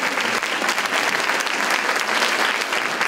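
Sustained audience applause at a Founder's Day celebration, dense steady clapping from a sizable crowd filling the whole stretch without pause, loud and close.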